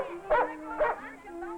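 A dog at an outdoor pet show gives two short, fairly close yips or barks about half a second apart, with a faint third one, over a steady low background tone.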